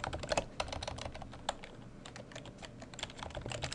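Keys clatter on a computer keyboard in a quick, uneven run of soft clicks with brief pauses, close and fairly quiet.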